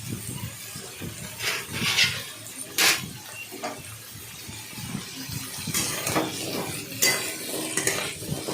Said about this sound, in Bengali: তারপর সেটাকে আলুগুলোকে ভালো করে ভাজলাম।